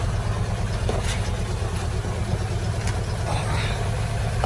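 A Daewoo Lanos engine with a cold-start misfire runs steadily close by, a constant low droning hum without clear rises in pitch, heard alone with no talk.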